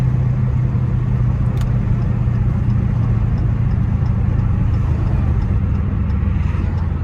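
Dodge Challenger Hellcat heard from the driver's seat, its engine a steady loud low rumble with road and wind noise while cruising, no distinct rev spike.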